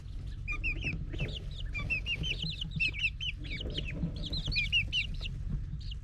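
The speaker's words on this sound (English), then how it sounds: "I think he's a rooster." Young rooster among farm birds at feeding time gives repeated high, short clucks and chirpy calls in quick clusters, fairly close, over a low steady rumble of background noise.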